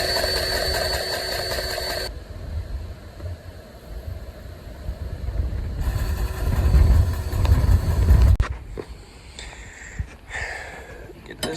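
John Deere 4455 tractor engine running at idle, a steady low rumble with a whining tone that stops and returns, a swelling surge, then quieter knocks and clanks, close by.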